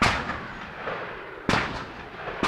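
Two loud, sharp gunshots ring out outdoors at a shooting range about a second and a half apart, each followed by a decaying echo, fired from a handgun aimed with iron sights.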